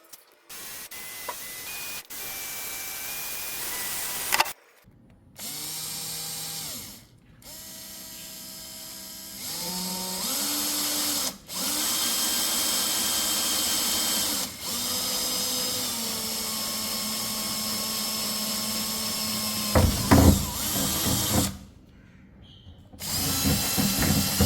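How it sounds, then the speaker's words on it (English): A power drill bores holes in a car body to mount a rear camera on a Mitsubishi Lancer, with several separate whirring bursts that rise in pitch as the motor spins up, broken by short pauses and small handling noises. "Okay, so let's get to drilling."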